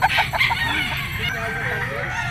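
A two-year-old yellow-legged bulik rooster crows nearby in a backyard breeding yard, one drawn-out call following short clucks, with other fowl faintly in the background.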